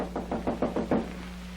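Five or six firm knocks rap on a door in an even, quick rhythm, close and clear over a steady low hum, in a 1937 radio mystery drama.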